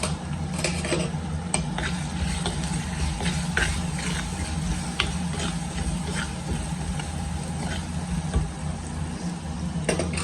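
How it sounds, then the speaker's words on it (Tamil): Goat intestine sautéing with turmeric in a clay pot, a steady low sizzle with repeated scraping stirs over a constant background hum. "இப்போ இதோடு கொஞ்சமாக நம்ம மஞ்சத்தூள் சேர்த்து நல்லா வதக்கிக்கணும்"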